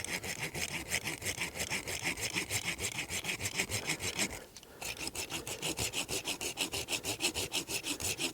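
A hand saw draws slowly through a deciduous tree trunk in an even rhythm of rasping strokes, pausing briefly midway before the steady back-and-forth cutting resumes, close and without talk.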